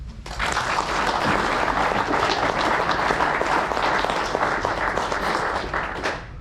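Loud, sustained audience applause at a Republican primary candidate forum, dense clapping building in quickly, holding steady for several seconds, then cutting off near the end.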